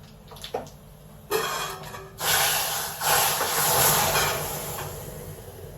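Tadka tempering with curry leaves and hing poured into dal: a sudden loud sizzling hiss bursts in after a few quiet clicks, then a sustained, close frying crackle that swells and slowly settles.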